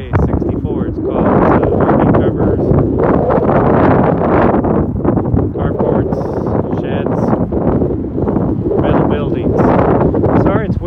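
Strong wind roars steadily across an open outdoor lot of sheds, carports and RV covers off State Highway 64 in Golden Valley, Arizona, buffeting the microphone loudly and continuously with gusty rumble throughout.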